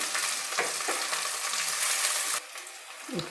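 Onion frying in oil with mint and coriander leaves for a rava vegetable biryani, a bright close hiss that drops off suddenly partway through, leaving a quieter sizzle and one stirring scrape.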